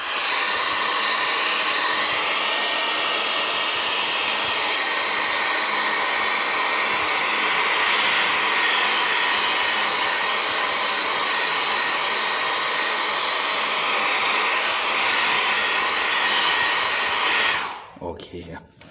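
A hair dryer blows steadily to dry freshly applied paint, a loud continuous whooshing roar that holds without a break for about seventeen seconds before cutting off abruptly.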